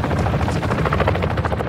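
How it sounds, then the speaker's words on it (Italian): A helicopter in the video game Call of Duty: Warzone 2.0 gives a loud, close, rapid rotor thumping that pulses steadily throughout, with no voices over it. "l'elicottero ha fatto casino"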